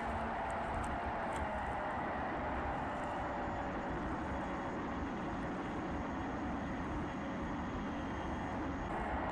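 A Hee Wing T1 Ranger RC plane drones steadily in flight, its small electric motor giving a continuous faint whine with a low rumbling wash of wind, unbroken and moderately distant throughout.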